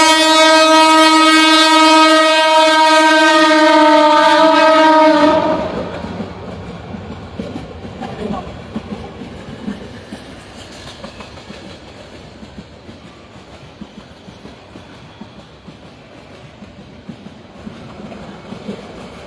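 A train blasts a long, loud, steady horn for about five seconds, then rumbles past with continuous rolling clatter and wheel noise that slowly fades.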